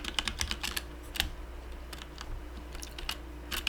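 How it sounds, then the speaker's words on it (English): Rapid clicky keystrokes from a mechanical keyboard while playing Minecraft, irregular bursts of typing close to the mic over a low steady hum. "I know you can hear my keyboard. I prefer a mechanical keyboard."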